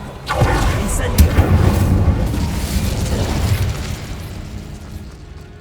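A fiery Incendio spell is cast in Hogwarts Legacy, erupting in a loud whooshing burst with a thumping impact. It roars for a few seconds, then fades out.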